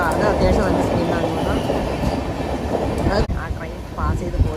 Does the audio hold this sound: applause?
no